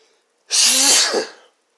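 A single loud sneeze bursts out close by, a sharp sudden blast followed by a brief trailing exhale, with silence before and after.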